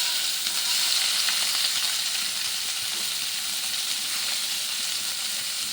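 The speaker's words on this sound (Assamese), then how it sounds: "এটা ডাঙৰ পিঁয়াজ এটা আৰু ৰচুন 6-7 ফুটামান তেলত দি লৈছোঁ" A large onion and six or seven garlic cloves, crushed in a mortar, fry in hot oil for an Assamese fish curry, giving a steady, dense sizzle that carries on alone without pause.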